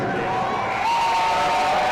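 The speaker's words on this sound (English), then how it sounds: "that's a happy crowd on the Fremont side" A happy home crowd on the Fremont side cheers at a girls' high school state finals basketball game, a loud, sustained wash of voices and whoops filling the arena.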